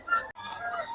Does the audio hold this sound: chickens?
yes